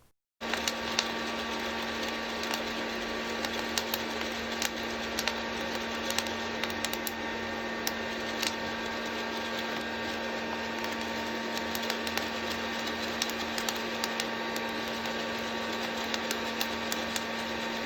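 Coffee beans at first crack while roasting in an air popper, scattered sharp pops and snaps over a steady loud whir of the popper's fan, close and continuous, no talk.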